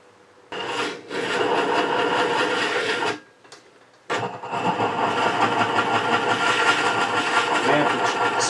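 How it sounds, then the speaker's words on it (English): Wood lathe turning a small birdhouse ornament at slow speed, a steady rasping scrape of tool on spinning end grain that starts, stops briefly around the middle, then resumes loud and continuous. "So turn this at an appropriately slow speed."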